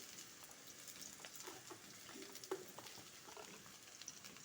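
Potatoes, ridge gourd and Malabar spinach stems fry with nigella seeds in hot oil for a quick pui shak chorchori. A soft, steady sizzle plays with faint stirring and one brief clink.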